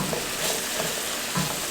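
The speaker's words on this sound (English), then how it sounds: "sizzle and soak for another minute or two" Steady, crackling sizzle of pecans frying in a pan for candied pecans, close and continuous with faint stirring scrapes and no voices.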